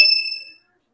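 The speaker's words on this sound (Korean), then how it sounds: "종이 울리네요" A school bell at a Korean high school sounds a single bright, ringing chime that starts loud and fades out within about half a second, followed by silence.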